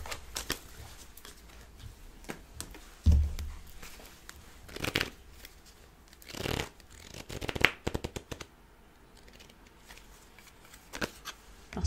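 Tarot cards being shuffled by hand for a reading: soft, papery riffles and slides with scattered sharper snaps and handling knocks, close to the microphone and spread unevenly over several seconds.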